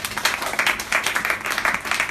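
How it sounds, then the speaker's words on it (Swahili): Energetic clapping from a congregation during a Sunday church service, many hands striking in quick, uneven bursts, close and fairly loud, with no talking over it. "Makofi makubwa kwa ajili ya Bwana."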